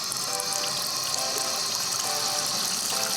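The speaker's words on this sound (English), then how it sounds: "Let's turn on the water." Water runs steadily from a faucet fitted with a temperature-controlled light, a continuous broadband hiss and splash close by, even and unbroken throughout.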